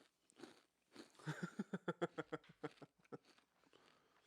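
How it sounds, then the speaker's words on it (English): Someone eats crunchy food close up, with a run of about a dozen evenly spaced crisp bites and chews that swell in the middle and then trail off into softer chewing. "All this crunching must be great recording time"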